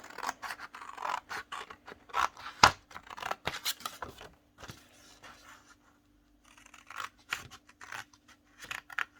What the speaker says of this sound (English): we're going to cut along this bottom left hand rectangle and cut it right off